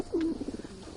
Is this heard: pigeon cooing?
yes